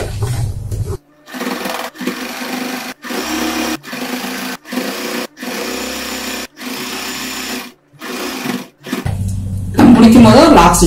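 Sewing machine stitching the hem of an apron, running in repeated bursts of steady mechanical whirring separated by short pauses, loud and close.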